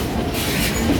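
Tourist railroad train rolling steadily along its tracks, a continuous close rumble of wheels and cars with faint metallic squeal, no talking.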